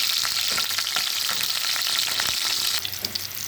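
Onions and green chillies fry in hot oil in a pan, a steady loud hissing sizzle with faint stirring scrapes throughout, close up and without speech.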